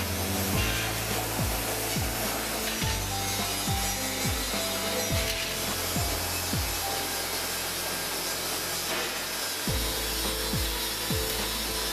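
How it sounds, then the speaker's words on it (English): Roller bending machine at a fastener and engineering works bending metal fasteners, a steady loud mechanical grind with repeated rhythmic clunks and creaks throughout, no voices. "That is, roller bending,"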